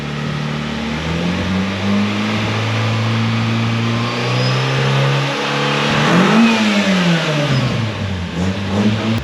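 Nissan SR20 engine in an N14 car revving on a dyno, a loud sustained drone that holds steady, then swells and dips around the middle before settling again, with no talk over it.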